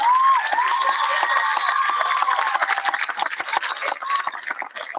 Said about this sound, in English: Now turn around and give a round of applause to those folks right now.